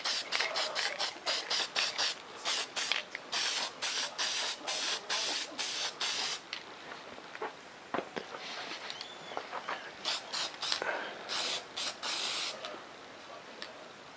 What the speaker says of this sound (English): I'm just going to shoot a coat on the top here.